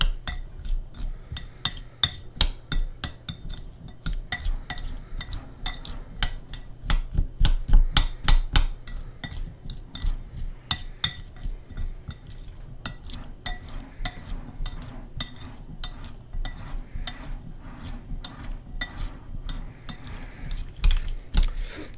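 Chipotle corn salsa mixed in a bowl with a utensil: a long run of quick, irregular clicks and scrapes against the bowl, fairly close and steady, with no talking.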